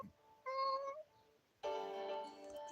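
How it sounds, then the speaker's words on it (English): A kitten gives two close, clear meows, a short one and then a longer drawn-out cry after a brief pause, in a quiet room. "kitten who had hidden himself away while Timo and I were reading suddenly shows up at my feet"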